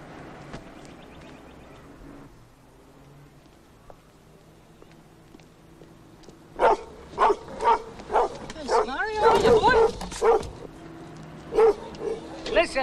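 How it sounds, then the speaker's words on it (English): A young dog barks, giving a quick run of loud, sharp yips and barks close by in the second half, after a quieter stretch with people talking. "Well, he's a young dog, Mrs. Gordon."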